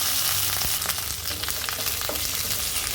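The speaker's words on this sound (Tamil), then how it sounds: "எண்ணெய் சூடானதுக்கப்புறம் இதில் அரை டீஸ்பூன் கடுகு கால் டீஸ்பூன் ஜீரகம் காய்ந்த மிளகாய் ஒன்று பெருங்காயத்தூள் சின்ன வெங்காயமும் கருவேப்பிலையும் சேர்த்துக்கிறேன்" Mustard seeds, cumin, a dried red chilli, asafoetida, small shallots and curry leaves frying in hot oil, a loud, dense, continuous sizzle with sharp crackles and pops, close up and without speech.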